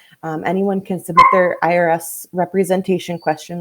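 A dog barks in a rapid string of loud, close yips and barks indoors at a home workspace, overlapping with a person speaking.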